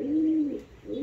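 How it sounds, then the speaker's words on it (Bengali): Pigeons nesting on eggs in a home loft coo close by, a soft throaty coo held for about half a second, then a second coo starting near the end, with no talk. "এইদিকে কিছু কবুতর দেখা যাচ্ছে যে বসে আছে"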